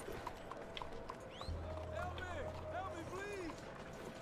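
Horse hooves gallop in the Red Dead Redemption 2 video game, a steady faint clip-clop running beneath in-game voices and a player talking over it.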